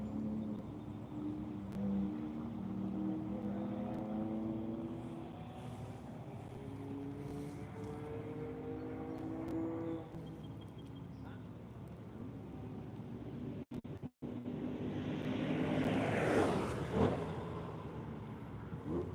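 A Michelin Corvette E-Ray with a Lotus following closely pass along a track wall, engines rising into a louder whoosh near the end, under steady wind noise and a commentator's talk.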